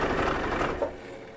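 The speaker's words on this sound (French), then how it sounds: "en faisant marcher ma machine à coudre, je vais venir tirer" Sewing machine stitching two pieces of fabric together for a reversible fabric pot, a rapid mechanical whirring stitch that runs close and loud, then slows and fades near the end.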